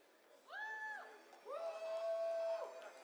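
An audience at the AGDQ 2020 speedrun marathon cheers and whoops in two rising swells, with sustained yells over a crowd murmur, fairly distant.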